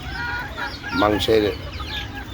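Native country chickens raised for meat cluck and call close by, with a louder burst of clucking in the middle over a steady background of farmyard noise.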